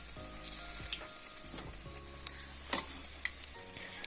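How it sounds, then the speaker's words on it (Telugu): Food frying in a pan until browned, a close, continuous sizzle with crackles and occasional stirring scrapes, no voices. "ఇలాగ బ్రౌన్ కలర్ వచ్చేంత వరకు వేయించాలి"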